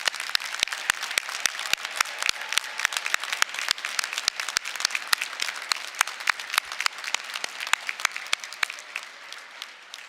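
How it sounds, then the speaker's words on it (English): Steady applause from a commencement audience for nursing graduates at a University of Michigan-Flint ceremony, a dense wash of many hands with some sharp individual claps standing out, sustained evenly for about ten seconds. "Let us give them another round of applause for these exceptional graduates."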